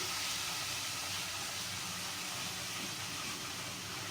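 Red chili powder roasting in hot oil for a Hyderabadi green chili salan, a steady close hiss and sizzle of frying that holds evenly for the whole stretch with no talking.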